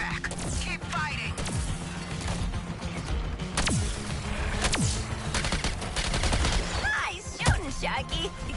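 Dense, continuous gunfire and crashing impacts in the Suicide Squad: Kill the Justice League game, a busy firefight with shots, bursts and smashes layered over game sounds and occasional voices.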